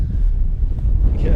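Wind gusts sweep across an exposed Dartmoor campsite, buffeting the microphone with a continuous low, rumbling roar that swells and eases without a break.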